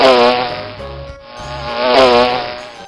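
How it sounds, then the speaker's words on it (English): A bee buzzes in a steady, loud, close drone that swells and dips twice across the few seconds, with no other sounds around it. "Bee."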